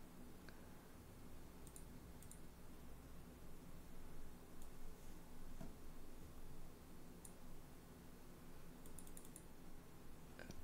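Someone types on a computer keyboard, giving faint, scattered key clicks over a low steady background hiss.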